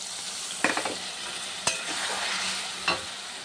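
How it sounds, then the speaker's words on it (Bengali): Spice paste of cumin, chilli, turmeric, ginger and salt sautéing in oil for a katla fish curry, a steady close sizzle broken by a few sharp clinks of a spoon stirring the pan. "এই মশলাটা কষানো হয়ে গেছে"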